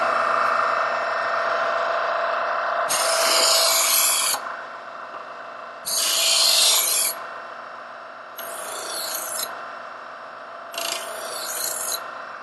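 Four rasping grinding passes of a German-style knife drawn through a Kitchen IQ adjustable electric sharpener, each lasting one to two seconds over a steady motor hum, close and fairly loud.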